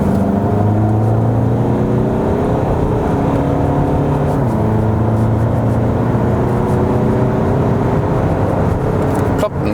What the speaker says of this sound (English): we can drop down to about 60 and then accelerate it out